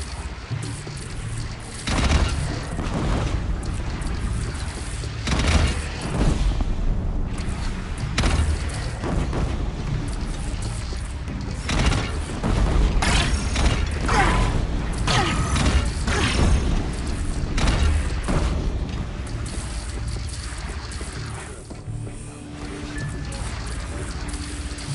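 Heavy cannon and gunfire rumble through a battle in Horizon Zero Dawn, with repeated loud booms and bursts of fire spread across the scene among mechanical clatter and commotion.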